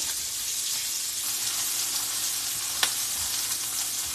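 Sausage browns in a cast iron pan with a steady close sizzle and a single sharp scrape of stirring partway through.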